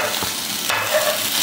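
Food being stirred in a hot frying pan for a homemade Sri Lankan Tamil varai, with a steady close sizzle and one brief scrape of the spoon partway through.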